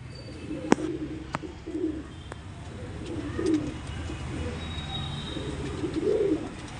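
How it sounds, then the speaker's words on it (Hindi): A red pigeon coos softly in repeated low throaty phrases, close by, over a faint background hum with a couple of sharp clicks. "एक कबूतर ये दिया है जी भाई को"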